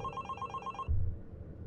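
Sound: telephone ringing in the video game The Box

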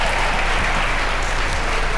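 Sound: crowd cheering and applauding at a table tennis match

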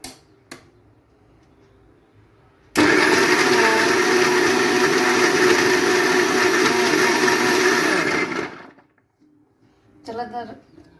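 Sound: mixer grinder blending milkshake

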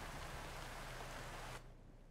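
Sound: rain in the video game American Truck Simulator

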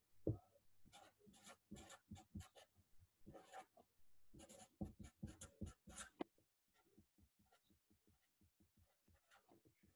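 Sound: writing on paper

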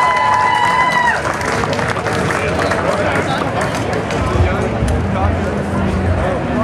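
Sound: audience applause for a beatboxer

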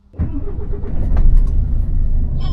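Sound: car engine starting and running

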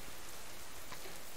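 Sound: rain in the video game Subsistence

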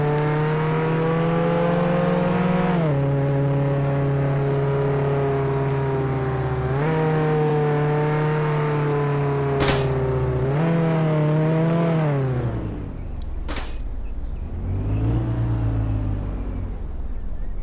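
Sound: car driving in a video game

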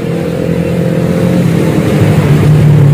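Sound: motorcycle engine started and revved

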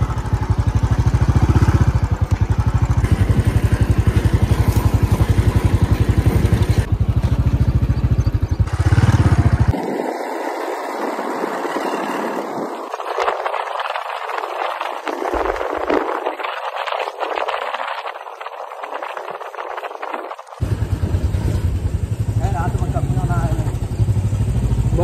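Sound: motorcycle riding with a calf on board

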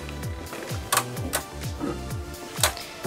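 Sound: Beyblade Fafnir spinning in the stadium

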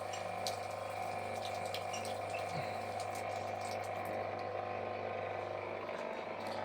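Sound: tap water filling an aquarium tank

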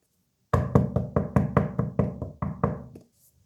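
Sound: knocking on a door

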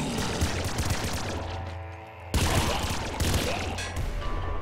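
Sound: double laser rifles firing in video game Nuclear Throne

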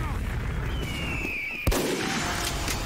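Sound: charged critical shot in Team Fortress 2 video game

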